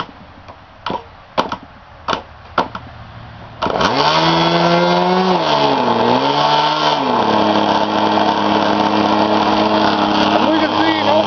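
A K&B 20 RC model engine takes several sharp flip-start pops and catches. It then screams into a loud, buzzy high-revving run with the pitch dipping and recovering, close by and without a break.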